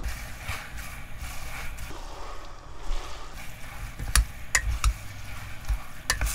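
Chive japchae ingredients stir-fried in a pan give a low sizzle with scraping stirs, punctuated near the end by several sharp clanks of a utensil against the pan.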